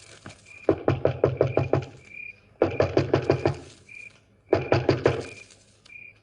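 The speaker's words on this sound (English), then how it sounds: "Stand where you are, and I'll go knock on the door." Three bursts of rapid knocking on a door in an old radio drama, each a run of about six to eight sharp raps, loud and close, with short pauses between and faint background tones.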